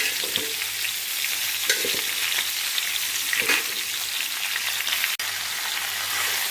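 Raw mango pieces coated in turmeric sizzle steadily in hot oil with five-spice and dried chillies for a pickle, a dense continuous frying hiss with a few stirring knocks, close and loud throughout.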